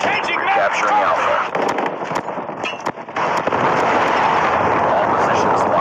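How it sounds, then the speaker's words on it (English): Predator missile strike in Call of Duty Mobile gameplay, a loud barrage of booming explosions and crackling gunfire that briefly thins, then roars back continuously. "Friendly predator missile inbound."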